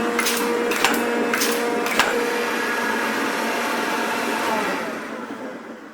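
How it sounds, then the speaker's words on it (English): An air-operated tool lifter on a Rockford metal shaper hisses steadily with broad, loud air noise, broken by a few sharp clicks at the start before the hiss gradually fades away. "So, that's my air-operated tool lifter."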